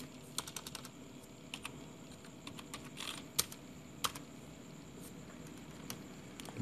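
Computer keyboard typing a file name, soft irregular keystrokes clicking in short bursts with a few sharper taps, close and fairly quiet over a low room hum.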